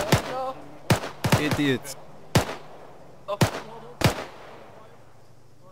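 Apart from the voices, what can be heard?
gunfire in the video game Arma 3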